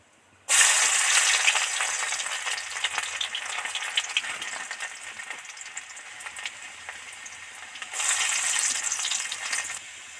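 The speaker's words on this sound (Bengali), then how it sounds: "এই তেলের মধ্যে রসুন কুচিটা উঠিয়ে দেব" Chopped garlic dropped into hot oil with dried red chilli and bay leaf, bursting into a loud crackling sizzle that eases to a steady fry, then swells again near the end, with no speech.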